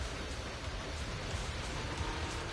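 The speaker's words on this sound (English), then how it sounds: "The wind and rain are picking up." Wind and rain in the video game ZZZ make a steady, even hiss of rainfall with a broad noisy wash that holds at a constant moderate level throughout.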